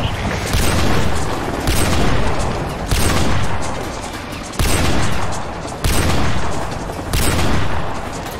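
Sustained, heavy gunfire and booming blasts in the Modern Warfare 2 Remastered video game, with loud bursts of rapid shots repeating in waves and no spoken voices.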